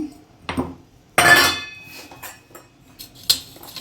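Roasted cumin seeds and chilli are pounded in a mortar, making a few sharp, irregular knocks and clinks with quiet gaps between them.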